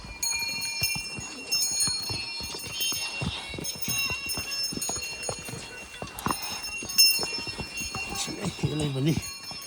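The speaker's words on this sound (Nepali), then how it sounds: "घोडामा हिँडिरहेको छौँ हामी चाहिँ" Horse hooves clip-clopping steadily along a mountain trail near Gosaikunda, a close, regular beat of footfalls with occasional bell jingles and people talking throughout.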